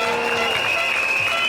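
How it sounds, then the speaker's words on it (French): Crowd at a Paris street rally applauding the volunteer stewards, a dense, steady wash of clapping from many hands spread across a large open-air gathering, continuous throughout with no single voice standing out. "je vous demande de les applaudir"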